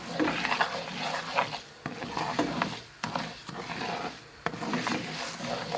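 Orzo being stirred and toasted in a pot for rice pilaf: continuous scraping and rasping strokes of a spoon against the pot, with a few sharper knocks, moderately loud and close.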